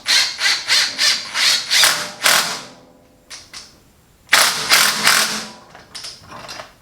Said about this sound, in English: pulled the pulley right off, no problem